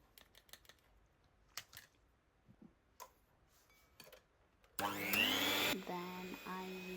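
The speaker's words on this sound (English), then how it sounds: "Then I used a hand whisk, electronic hand whisk, on high speed" An electric hand whisk runs on high speed through cake batter with sugar, a loud steady motor whine with a rattling beater tone that starts abruptly after a stretch of quiet clicks and taps and lasts about a second before easing slightly.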